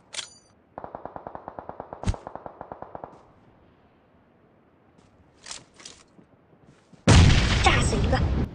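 In a shooter video game, a rapid string of automatic gunfire rattles off, then a few scattered shots, before a grenade explosion lands with a loud, sustained roaring blast; a voice speaks faintly in between.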